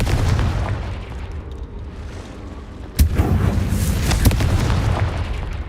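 A fire spell blast cast in the Hogwarts Legacy video game, heard as a loud boom at about three seconds that lifts an already dense, rumbling battle-like background and leaves a sustained roar after it, with no talk.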